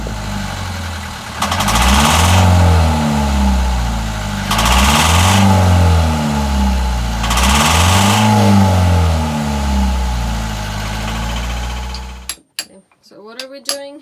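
A sailboat's inboard engine runs roughly while faltering, throwing smoke. It gives a loud, close drone that surges and sags in repeating waves about every three seconds, then cuts off abruptly near the end, leaving brief knocks.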